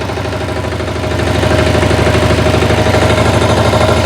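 Diesel engine of a Motor Sich MB-12DE walk-behind tractor, 12 hp, idling steadily nearby with an even low chugging rhythm that grows slightly louder after the first second.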